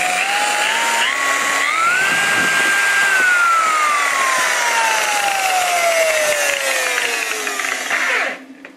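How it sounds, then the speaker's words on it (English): A high-speed car polisher buffer runs loudly and steadily, its motor pitch climbing then slowly winding down as the speed changes, before cutting off near the end. "This is a very, very good buffer."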